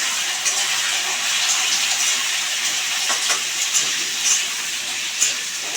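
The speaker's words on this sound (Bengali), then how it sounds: "এই কুমড়োটা ছাড়লাম।" Pumpkin pieces added to hot oil with dried red chilli in a home kitchen sizzle steadily as they fry, a constant hissing crackle with faint pops and no talk.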